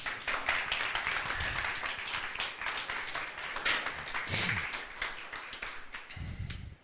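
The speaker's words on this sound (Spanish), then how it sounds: "¿Por qué no le ofrendamos un fuerte aplauso esta mañana?" A church congregation claps during a Spanish-language service, a moderate scattered patter of hands at some distance, with a few low thumps and brief murmurs mixed in.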